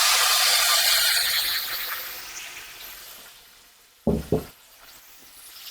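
Mashed potato tipped onto fried onions in a hot pan gives a loud sizzle that fades, then two sharp knocks as it is stirred, with a low sizzle continuing after.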